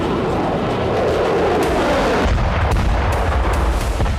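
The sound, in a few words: Russian glide bomb attack explosions in Kupiansk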